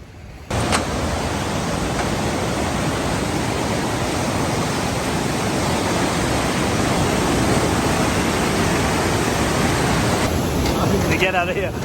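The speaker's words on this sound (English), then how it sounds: "but what a beautiful waterfall." Waterfall in the Swedish Arctic, a loud, dense, unbroken roar of rushing water heard up close, steady for the whole stretch with no voices over it.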